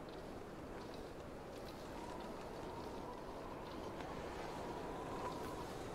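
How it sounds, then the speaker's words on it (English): A steady wind roars through a snowy wilderness in The Long Dark, a constant low rushing blizzard gust that fills the scene evenly with no voices over it. "Sounds like a bit of a blizzard, though."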